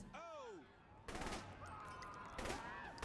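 Bursts of rapid gunfire ring out in Saints Row: The Third, two dense volleys about a second apart standing out over a busy game background, with no voices speaking.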